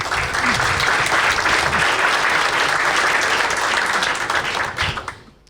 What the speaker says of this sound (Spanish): un aplauso y muchas gracias a todos.